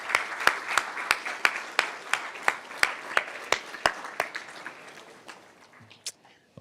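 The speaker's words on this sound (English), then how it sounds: "Please again join me in a round of applause for the talented students in our department." A banquet audience applauds award-winning students at a Penn State EME awards event: evenly spaced, crisp claps ring out with a steady rhythm, then thin and fade toward the end.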